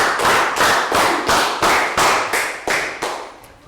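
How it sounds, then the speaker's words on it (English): A primary school class gives a round of applause for a pupil: about ten loud, evenly spaced unison claps, close and sharp, with no talk over them. "High five, round of applause for Prel."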